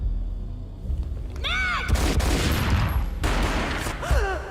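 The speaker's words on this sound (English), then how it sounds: "A gunshot boomed and she fell down in slow motion." Gunfire in the PC game Max Payne, loud booming shots with heavy rumble and rapid bursts, alongside pitched whooshing game effects.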